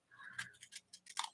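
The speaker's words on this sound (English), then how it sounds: "So I like these Tim Holtz scissors, because they don't get sticky after." Tim Holtz scissors snip through paper in a quick series of short, faint crisp cuts, heard close and alone.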